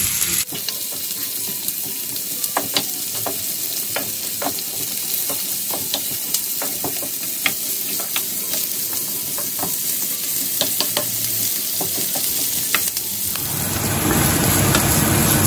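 Onions sauté and are stirred in a pan for chicken chukka, a continuous close sizzle broken by frequent light clicks and scrapes of the spoon, swelling into a louder hiss near the end.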